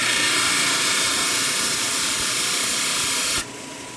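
A rock trim saw cutting through stone gives a loud, continuous high-pitched whine and hiss up close, then cuts off abruptly just before the end, leaving quiet.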